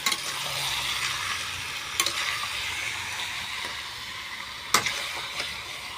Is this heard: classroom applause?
no